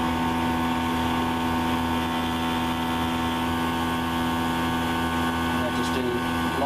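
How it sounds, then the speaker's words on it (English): A constant whirring drone of an electric fan blowing, steady and loud throughout with a broad airy hiss over a low hum. "Of course my fan is blowing"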